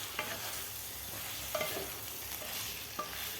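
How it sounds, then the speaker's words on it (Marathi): Fried eggs sautéed in masala in a kadhai for egg biryani make a steady, quiet sizzle, with a few soft spatula scrapes and stirs at intervals. "अंडेसुद्धा आपल्याला व्यवस्थित परतून घ्यायचे आहेत 1 मिनिट खालच्या मसाल्यामध्ये"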